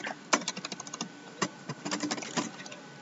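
Fingers typing on a computer keyboard into a help portal search box, a quick irregular run of close, crisp key clicks with short pauses between bursts and no talking.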